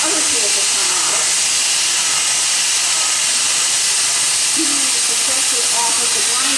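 A handheld power carving grinder works a wood carving, giving a steady, loud broadband hiss that holds unbroken through the whole stretch with no talk over it.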